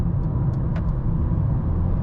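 Mercedes-Benz A-Class petrol car with a 150 bhp engine pulling hard in fourth gear, a steady low engine roar heard from inside the cabin, continuous and fairly loud with no voices.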